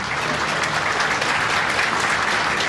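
Steady, dense applause from a large outdoor crowd at a Turkish oil wrestling event in Kocaeli, a continuous wash of clapping holding at an even level throughout with no pauses.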